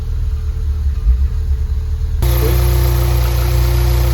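Audi S3 8V, a 622 bhp build, idling during a heat cycle: a deep, steady rumble close by that becomes fuller and louder partway through, then holds constant.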